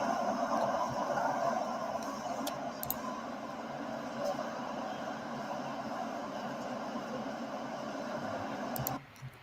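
Open main hall of New York's Grand Central station: a steady, reverberant wash of crowd murmur and distant activity, with faint clicks and thuds, holding at an even level before dropping away near the end.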